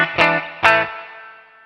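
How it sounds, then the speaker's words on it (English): Electric guitar through a NUX MG-300 reverb emulation, two distorted strums a moment apart, each ringing out loud and close into a long fading reverb tail. "another reverb emulation that might be a little bit different to the others"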